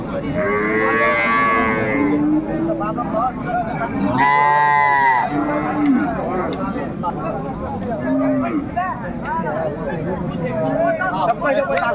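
A dairy cow with her calf at a livestock market in Raniganj moos several times in long, loud calls, with people talking around it.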